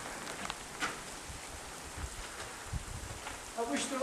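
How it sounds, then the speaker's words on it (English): Rain falls steadily outdoors at the Lagazuoi tunnels, a soft continuous hiss of drops with scattered louder patters and faint voices nearby. "I wish the rain had stopped."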